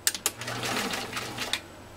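A PFAFF 332 sewing machine stitches through U.S. Army grade canvas in a short, steady whirring burst with a few sharp clicks at the start, close and moderately loud.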